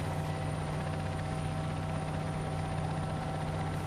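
A steady helicopter drone with a constant rotor hum and high whine, loud and continuous, no talking.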